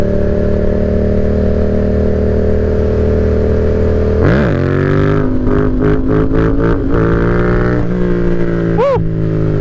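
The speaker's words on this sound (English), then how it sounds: "See if I can still do a wheelie." A 2007 Honda CBR1000RR 1000cc sport motorcycle runs with a steady, close engine drone, then its revs jump and shift sharply as it is pulled up into a wheelie, rising and dropping again near the end.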